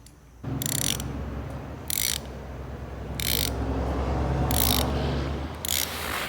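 A ratchet wrench cranks down bolts on a roof rack for a 2025 sixth-generation Toyota 4Runner, with loud, close clicking strokes coming in about five bursts over a steady mechanical rumble.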